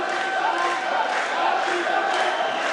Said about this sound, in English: And the crowd chanting Jack